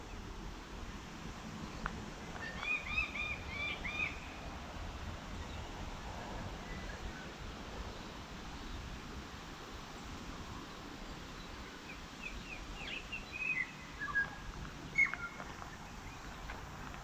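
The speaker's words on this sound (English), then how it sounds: "A beautiful bird song in here." Faint bird chirps in the bush, a few brief calls scattered over steady wind and rustling, quiet and somewhat distant.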